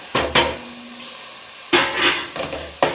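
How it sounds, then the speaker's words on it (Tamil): Chopped tomatoes sautéing in a pan for seeraga samba prawn biryani: a soft steady sizzle broken by a few loud scraping bursts of stirring, close up. "நம்ம கட் பண்ணி வச்சுருக்க தக்காளி சேர்த்துறேன்"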